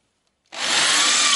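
A power drill bites into the car body metal of a Citroën Traction 11B after a short silence, a loud, steady high whine that holds close until the clip ends.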